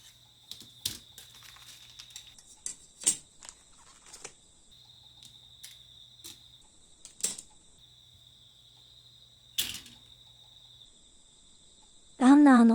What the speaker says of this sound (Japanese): スズムシの声を聞きながらのプラモ